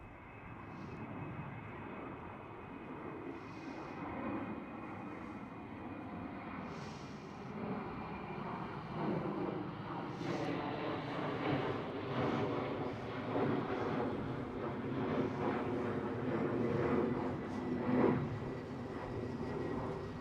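Engines of a British Airways CityFlyer Embraer E190 drone at moderate distance across Schiphol's Kaagbaan runway, a soft continuous jet rumble that builds gently, with faint wind buffeting and no talking.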